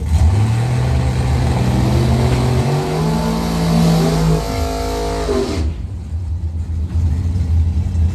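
Doorslammer drag racing cars launch in a bracket final at the Blue Oval Battle, engines roaring loud and close with rising revs before cutting off sharply near the end.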